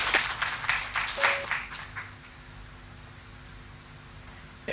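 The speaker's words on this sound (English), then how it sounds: "Please give a round of applause to Dr." Audience applause at an academic conference at Payap University in Chiang Mai, a short burst of clapping that fades after about two seconds into quiet room tone.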